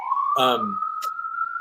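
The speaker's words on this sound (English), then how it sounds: "pardon my sirens" A passing police siren wails steadily in the background while a voice speaks briefly over it.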